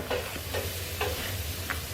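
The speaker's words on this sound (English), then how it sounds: "Okay, I'm going to put the last of the ham in there. All right. Give this a nice stir." Ham being stirred into a twice-baked potato casserole, a spoon scraping through the thick mixture in four evenly spaced strokes over a low steady kitchen hum, close by with no talking.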